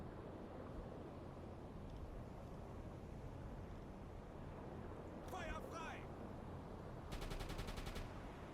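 A submarine deck gun fires in the UBOAT game, with a pair of distant shots and then a rapid volley of bursts, all over a constant rumble of sea and engine noise.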